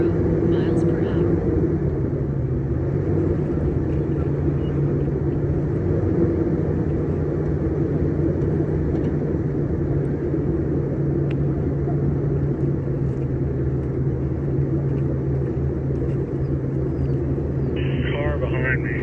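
A car drives along Shade Mountain Road in Pennsylvania, heard from inside as a steady, loud engine and road rumble that holds unbroken throughout.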